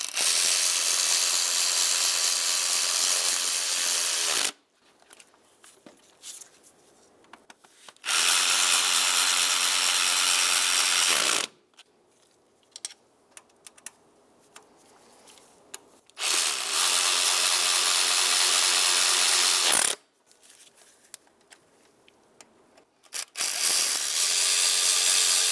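A power tool drives fuel rail bolts down on a Mazda CX-9 engine in three long, loud whirring bursts, each followed by quieter pauses with small handling clicks.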